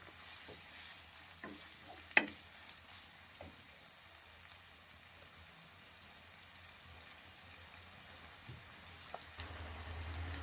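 Onions and curry leaves frying in a pan give a soft, steady sizzle with a few faint clinks of stirring, quiet and close, with no talking.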